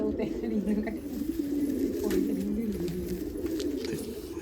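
Low, rolling coos from pearl-eyed pigeons on a rooftop in Amritsar repeat steadily through the clip under a background hum, with no one speaking.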